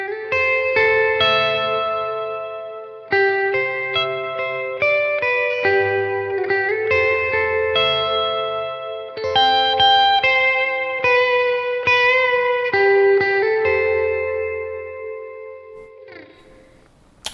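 Electric guitar lead line played through a Line 6 Helix modulated reverb, a run of clear sustained melodic notes with chorus-like shimmer and lingering wash, loud and alone, fading into a reverb tail at the end.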